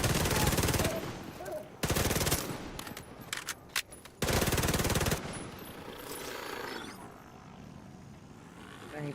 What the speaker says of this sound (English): Put my turret up there. And then start shooting.